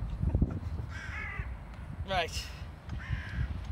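Several crows caw outdoors in rough, repeated bursts nearby, while someone speaks briefly over low background noise.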